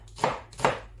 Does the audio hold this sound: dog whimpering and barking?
no